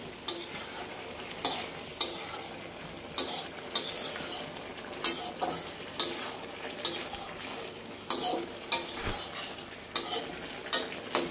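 A utensil scrapes and stirs through hilsa fish and cauliflower curry in a pan in repeated strokes roughly every second, over a soft steady sizzle.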